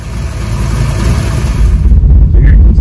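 A car engine with progressive ignition timing runs steadily, a loud low rumble that swells slightly toward the end, with a faint voice briefly underneath.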